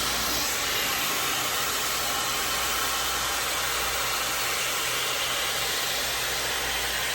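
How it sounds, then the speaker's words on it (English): A rotating hair dryer brush fitted with a curling nozzle runs continuously, a loud, steady, airy hiss and whine close by with no pauses and no talk. "This hair dryer is so powerful."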